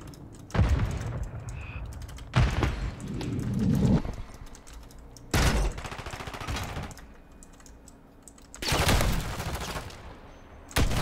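Bursts of rapid gunfire from the video game Call of Duty come in several clusters of rattling shots, separated by quieter gaps of game ambience, fairly low in level.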